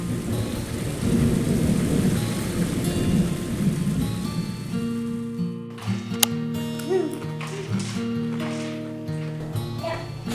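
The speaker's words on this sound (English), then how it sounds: "It's supposed to be thunderstorms all the way until 11 o'clock tonight" A thunderstorm with heavy, steady rain hissing close by and deep thunder rumbling through the first half, then easing while softer sustained tones carry on over the falling rain.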